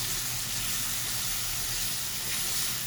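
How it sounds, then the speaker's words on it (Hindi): Potatoes frying with spices in a pan, a continuous even hiss of sizzling oil, moderately loud and steady throughout, with no voices. "अब मसाले के साथ हम 2 मिनट आलू भूनेंगे"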